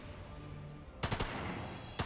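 Gunfire from a turn-based tactical RPG set in a pulp adventure world: two sharp bursts of shots, one at the midpoint and another near the end, loud over a quiet game backdrop.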